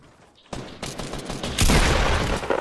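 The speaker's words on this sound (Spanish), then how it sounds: "Me está disparando otro." Gunfire from another player in Fortnite, a series of sharp shots that builds into a dense, loud volley of overlapping blasts and crackles with no talking.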